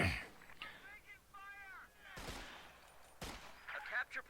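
Machine gun bursts in Company of Heroes, USF against Wehrmacht: two sharp, loud rattling bursts of fire against quieter battlefield ambience, with a brief shouted voice before them.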